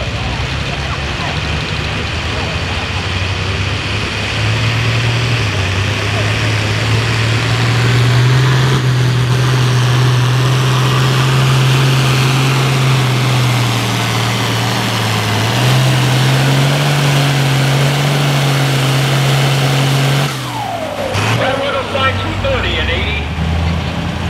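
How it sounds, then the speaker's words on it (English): Heavy diesel engines of semi-tractors rumble steadily at idle in the pits at a farm tractor pull, a loud continuous low drone that shifts pitch now and then, ending with a brief clatter near the close. "you can see the semi-tractors starting to make their way to the staging area"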